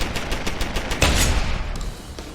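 Rapid gunfire in Deus Ex: Human Revolution, a string of sharp shots with a heavier burst in the middle, loud and close, fading toward the end.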